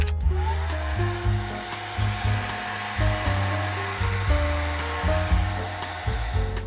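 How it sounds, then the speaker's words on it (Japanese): A hair dryer blows steadily on a watercolor pencil painting, a loud, close whirring hum with repeated brief changes in pitch and airflow as it moves, no talking. "ドライヤーを使って乾かします。"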